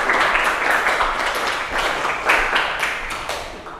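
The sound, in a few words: classroom applause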